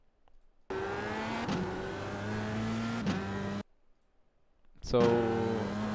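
An F3 race car in iRacing at Montréal, its engine note dropping through quick downshifts under braking with sharp gear-change blips, then cutting out before a loud rev returns; a voice briefly talks over it.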